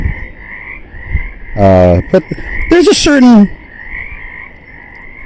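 Frogs croak in a frog pond, a steady chorus of rhythmic calls running through the background while a person talks loudly over part of it.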